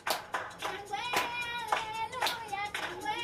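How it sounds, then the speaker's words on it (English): Hands clapping in a steady rhythm, about six sharp, close claps at regular intervals, with a voice talking between and over them. "when you hear that clap, connect to it"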